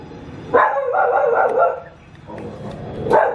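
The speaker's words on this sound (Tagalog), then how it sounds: "Wag nang tumahol ah." A dog gives two close bursts of barking, each a rough run of yaps lasting about a second, with a brief quiet pause between them.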